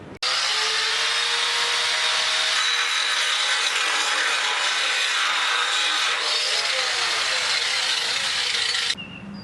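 Steady, loud grinding on the steel of a Harbor Freight trailer being prepped for welding, a continuous abrasive whine and hiss that runs unbroken for about nine seconds before cutting off abruptly near the end.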